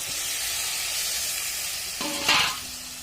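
Goat meat trimmings drop into spice paste frying in a pan, giving a steady close sizzle that swells sharply with a hiss of steam near the end, with light stirring.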